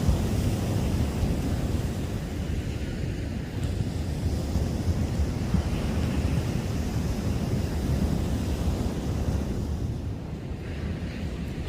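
Sea waves break steadily on the shore below a lighthouse, making a broad continuous roar and wash that holds at an even loudness throughout, with some wind rumble and no voices.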